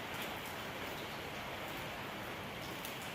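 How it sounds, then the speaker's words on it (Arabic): Steady rain falls continuously in a dense, even hiss of drops on surfaces, fairly faint and with no voices. "طبعا كما تلاحظون الجو مطر"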